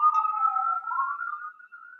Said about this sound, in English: I live downtown. I got a siren going.